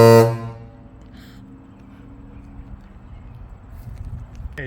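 A Grover air horn on a Peterbilt truck gives one short, loud, close blast right at the start, then cuts out to a low, faint background hum.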